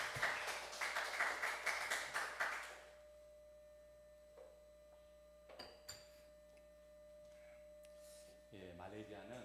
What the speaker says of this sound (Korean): 우리 박수로 선교사님 환영하겠습니다.